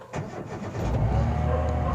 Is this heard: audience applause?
no